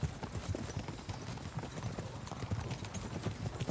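Horse hooves clip-clop in a steady, fairly close rhythm throughout, the mount's walk in the video game Kingdom Come: Deliverance 2.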